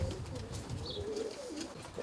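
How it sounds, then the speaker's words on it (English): Roller pigeons coo in a breeding box, a soft continuous rolling murmur of low calls, close by against faint rustling, with no speech. "I'm going to put them 3 young birds in there now."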